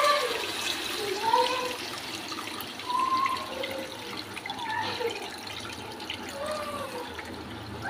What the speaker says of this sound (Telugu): పిసుకున్న చింతపండు ఇప్పుడు ఇందులో పోసేసుకుందాం